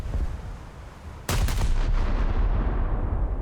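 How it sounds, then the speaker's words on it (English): Naval guns fire in War Thunder during a ship battle against a cruiser, with a sudden heavy boom followed by a rolling, rumbling echo that stays loud, over a steady background of engine and sea noise. "They're shooting at me."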